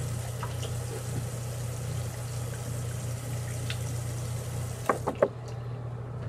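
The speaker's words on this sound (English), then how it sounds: "And we're gonna rinse my mouth with warm water." Warm water poured for rinsing the mouth, a steady running trickle over a low hum, ending with a few quick knocks and clunks.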